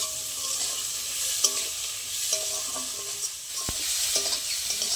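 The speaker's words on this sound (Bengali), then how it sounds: "এবার টমেটোটা একটু মশলার সাথে ভেজে নেবো" Tomato frying with spices, onion and garlic in a pan, being stirred: a steady sizzle with scraping spatula strokes and a few sharp clinks against the pan, close up.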